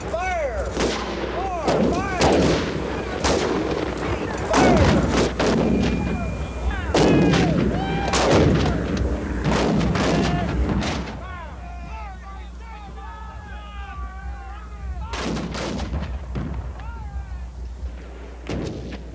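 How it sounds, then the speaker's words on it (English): A Civil War artillery cannonade with dozens of guns firing in a battle; loud, repeated booms and blasts overlap densely, with shouting voices mixed in and a calmer stretch before a final burst of fire. "The Federals respond with an 80-gun cannonade. For 2 full hours, an artillery duel rages."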